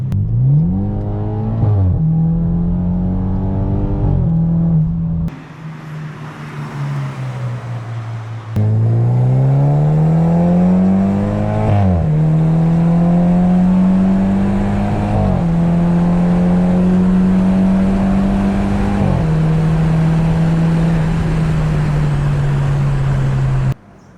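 A BMW M4 engine revs repeatedly, loud and close, climbing in pitch, holding, then dropping back between rises, with a brief quieter idle gap partway through and a steady revving drone for most of the stretch.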